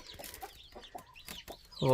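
Chickens and small chicks on a farm, with several short clucks and peeps scattered through, fairly faint against the background, and a louder burst of clucking at the end.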